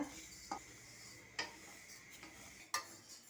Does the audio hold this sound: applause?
no